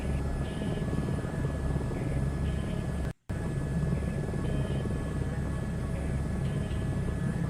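Steady helicopter rotor and engine drone from a simulated aircraft in Microsoft Flight Simulator 2024, loud and continuous with a brief dropout midway, no talking.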